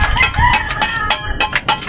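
A rooster crows loudly and close by, its drawn-out call broken into several rising and falling bursts with a few clucks, no talking.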